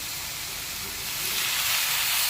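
Vegetables sauté in a hot pan with soy sauce and vinegar, a loud, steady broadband sizzle and hiss that swells near the end, close up with no talk.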